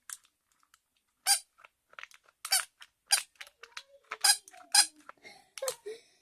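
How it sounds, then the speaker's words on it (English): Squeaky toy puppy being pulled by its head, giving a series of short, close, high-pitched squeaks in an irregular rhythm, some in quick pairs, with no talking. "Oh my god, this squeaks."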